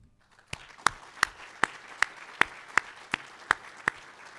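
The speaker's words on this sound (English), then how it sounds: "Let us recognize them with a round of applause" Applause at an award ceremony honouring past Distinguished Alum Award winners, heard as about ten sharp, evenly spaced claps close by over a faint background.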